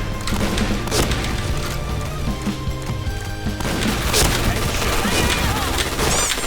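Explosions and gunfire in a first-person shooter game, with repeated loud crashes, bangs and thuds over a busy game soundscape, with someone talking.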